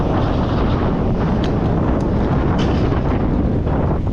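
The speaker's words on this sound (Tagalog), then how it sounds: "Lakas ng hangin." Strong, cold autumn wind in England roars and buffets loudly against the microphone during a ride, in a constant, rumbling rush with occasional sharper gusts.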